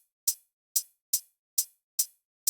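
Six crisp, bright hi-hat hits from an electronic track play at a steady, even pace. Each hit is short and decays quickly, with silence between them.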